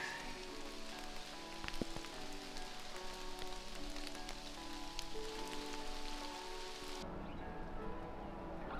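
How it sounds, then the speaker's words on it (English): Light drizzle patters on surfaces during a long-distance hike through the Ardèche and Drôme in France, a soft continuous rain texture with a few sharper drop taps, fairly close and unaccompanied by talk. "It's kind of drizzling, which is pretty good compared to what it was."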